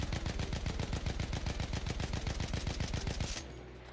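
Rapid automatic gunfire in Battlefield 1, a steady rhythmic burst of evenly spaced shots lasting over three seconds before cutting off abruptly, fairly quiet in the mix.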